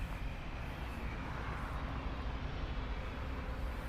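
Airliner engine roar at Toronto Pearson airport, a steady, loud, broadband rumble that stays constant throughout, with no voices.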